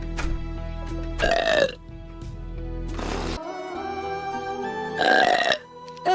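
A girl lets out three loud, drawn-out burps spaced a couple of seconds apart over steady background music.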